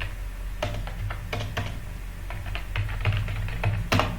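Typing on a computer keyboard, steady irregular key clicks with a few louder taps, close and clear with no talk over it.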